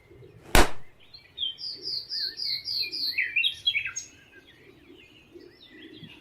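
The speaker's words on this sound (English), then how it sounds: "See, there is a bird." A bird chirps in a quick series of bright, high tweets and trills after a sharp knock, then calls more sparsely over a quiet background.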